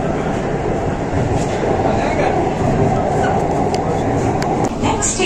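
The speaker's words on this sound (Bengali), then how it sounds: "আর বলতে বলতেই আমাদের ট্রেন কিন্তু ছেড়ে দিয়েছে।" A Kolkata Metro Green Line train pulls away from the platform. Its steady rumble is loud and continuous, with faint rail rattles and clicks on top and no speech.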